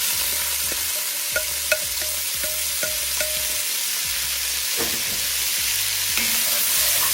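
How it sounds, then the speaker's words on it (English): Vegetables for a New Year soup being stirred and sautéed in a pot, with a steady close sizzle and repeated scraping strokes of a utensil against the pot, no voices. "And we're going to cook these until they're nice and tender and translucent."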